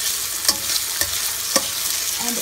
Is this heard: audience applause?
no